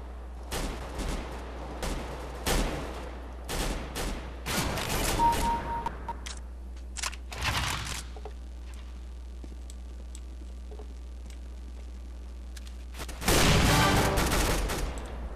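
Galil rifle gunfire in a video game: a series of loud, sharp bursts and single shots through the first eight seconds, a short quiet stretch with faint clicks, then a heavy sustained burst of fire near the end.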